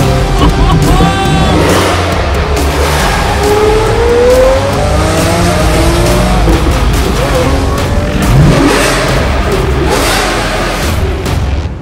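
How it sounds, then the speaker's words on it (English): A manual Lamborghini Murcielago V12 engine roars and revs loudly and continuously, rising and falling in pitch with tire noise, close and dominant throughout. "It's my manual Murcielago."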